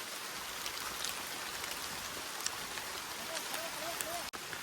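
Steady rain falls in a Palawan forest, a dense even hiss of drops on leaves and surfaces lasting throughout, with faint voices and a few soft chirps in the background.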